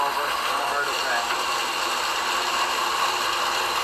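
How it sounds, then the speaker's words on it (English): A window air conditioner's slinger ring throws water through the coil: a constant whirring, rattling mechanical noise with a wet, splashing hiss runs steadily throughout, close and fairly loud. "That noise is that slinger throwing the water through the coil."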